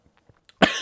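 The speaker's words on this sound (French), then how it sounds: "je viens de m'étouffer parce que j'étais en train de boire un petit verre de coca" A single loud, harsh cough bursts out near the mic after someone chokes on a small glass of cola, preceded by faint quiet breaths and small mouth sounds.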